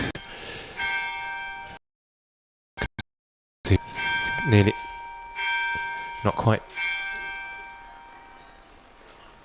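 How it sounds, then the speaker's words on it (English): Church bells strike in the distance at an outdoor fringe festival, several resonant tolls ringing out, broken by a short silent gap, while people talk over them. "You might just be able to hear the bells on our effects mic there, so that's 11 o'clock."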